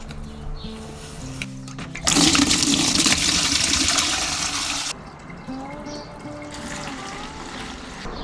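Water sloshes and rushes through the fuel tank of a Triumph Tigress motorcycle during a flush, a loud steady gush mid-clip with quieter trickling and dribbling before and after, no voices.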